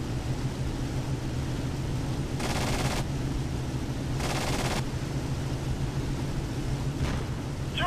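Aircraft cannon fire in the flight combat game IL-2 1946, two distinct bursts of rapid firing standing out over a steady, loud droning engine noise throughout.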